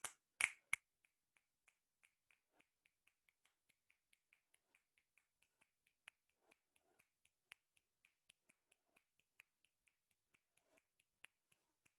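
Dozens of finger snaps or claps from a group, starting with a few loud ones and settling into a faint, steady, slightly uneven rhythm of crisp clicks in an otherwise quiet room.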